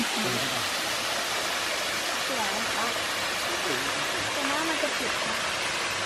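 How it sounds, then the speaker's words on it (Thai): The first waterfall on the Phu Kradueng trail roars as a steady, full wash of falling water close by, unbroken for the whole stretch, with faint voices barely rising above the rush. "อันนี้เราก็มาถึงที่น้ำตกจุดแรก"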